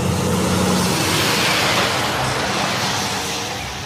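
A container truck rolls past on a road, a loud, steady roar of engine and tyre noise that holds for several seconds and fades slightly toward the end.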